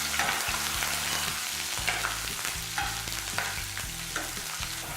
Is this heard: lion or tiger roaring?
no